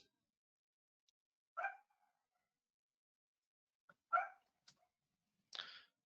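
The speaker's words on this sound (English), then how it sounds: "Pardon my dog." A dog barks indoors in a few short, separate bursts, distant and moderately faint, spread across a mostly quiet stretch with no talking.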